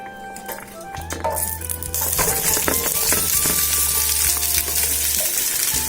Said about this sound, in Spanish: en una cacerola vamos a poner un poco de aceite para poder sofreír nuestra cebolla